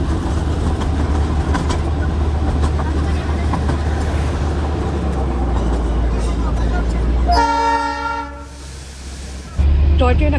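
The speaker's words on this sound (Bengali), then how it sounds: "টয় ট্রেন এখন চলেছে রংটংয়ের দিকে" The Darjeeling toy train sounds its horn while running toward Rongtong, a sustained tonal toot late on, rising over steady rumbling and rattling of the moving train.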